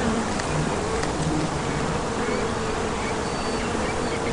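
Bees buzz steadily throughout in a Sherlock Holmes video game, a continuous dense insect drone with no pauses and no talking.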